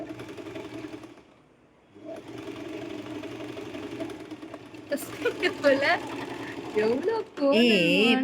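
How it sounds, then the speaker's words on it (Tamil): A sewing machine stitches a bag with a steady mechanical hum that starts after a short pause and continues while people talk over it. "இப்போ நான் பேக் தைக்கிறேன் பாரு கரெக்டாக"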